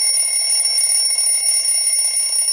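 An old-school alarm clock rings continuously, a loud, shrill metallic bell buzz with steady high tones and a fast rattling texture, sustained without pause from start to end.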